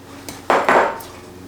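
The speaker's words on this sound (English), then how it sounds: "And then we're going to put 2 cloves of garlic in each one." Garlic cloves drop into glass canning jars for dilly beans, giving a few quick clinks: two faint taps, then two louder knocks close together near the middle, with no talking.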